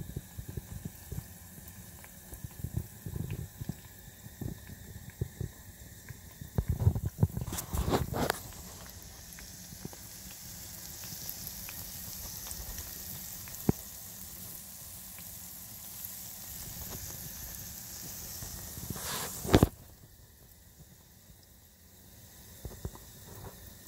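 French toast sizzling and bubbling in a frying pan, a soft, steady crackle throughout with a few louder clatters of handling in between.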